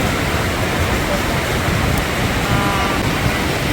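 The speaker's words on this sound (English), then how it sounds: "This water's moving." Fast-moving stream water at a Pacific Crest Trail river crossing: a loud, constant rushing roar of broadband noise, close to the microphone and unbroken throughout, with possible wind buffeting.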